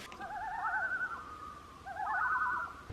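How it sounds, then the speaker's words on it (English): A loon, the state bird, gives loud wavering tremolo calls in two long bursts separated by a brief dip, carrying clearly over quiet outdoor background. "That right there would be our state bird making annoying noises. It would be the loon, and it's loud"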